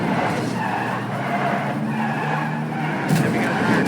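A race car with a flat tire skids in the Nascar 21 Ignition video game at Texas, a loud continuous tire scrub and engine roar holding steady throughout, with no talking over it.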